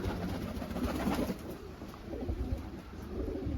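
Soft pigeon coos run under a steady hum of background noise, several birds murmuring close by without a clear rhythm.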